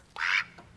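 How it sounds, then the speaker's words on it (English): A single loud, close duck quack, a white domestic duck giving one harsh nasal call that lasts about a quarter second, followed by a faint trailing echo and then quiet. "This is a duck, and it quacks."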